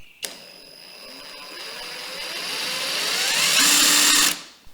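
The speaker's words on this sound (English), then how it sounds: "I decided to use my impact driver" An impact driver whirs steadily, its pitch and loudness building as it drills into steel, then cuts off abruptly; close and alone.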